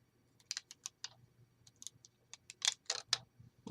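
Paper backing being peeled off a piece for a handmade Valentine's Day card, a quiet run of short crackly clicks in uneven bursts that grow denser toward the end, with no talking.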